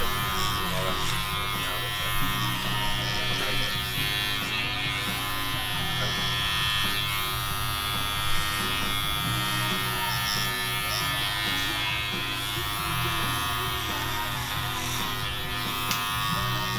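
Electric hair clippers buzz steadily and loudly through a haircut, taking bulk off long hair, a continuous close-up drone with slight changes as they move through the hair.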